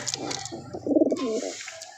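Pigeons coo in soft, rounded bursts, a louder close call swelling near the middle, with faint flapping and scuffling around them in a loft of tumbler pigeons.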